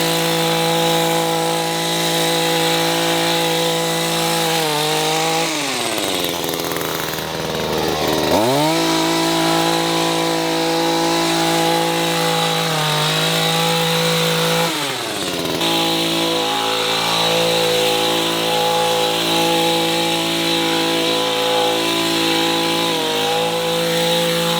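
Echo HC-2020 professional hedge trimmer cutting a hedge, a loud, steady engine drone with a buzzing reciprocating-blade rasp, dipping in pitch as it bogs down in thicker branches and then revving back up.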